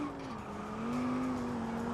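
Custom-built Chariot Vibace sleeper car in BeamNG.drive with a steady droning engine note that rises slightly in pitch, heard alone at constant loudness.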